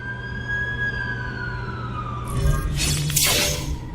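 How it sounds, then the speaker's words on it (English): An ambulance siren in a game cutscene from The Amazing Spider-Man 2, a steady, slowly falling tone over low background hum, broken near the end by a sharp shattering crash. "That's the ambulance I called."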